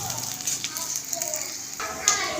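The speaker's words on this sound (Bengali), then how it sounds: "লাল করে পেঁয়াজগুলোকে এবার ভেজে নিতে হবে" Onions and green chillies frying in fish oil for a cabbage curry, a steady close sizzle with faint stirring scrapes, while a voice talks faintly in the background.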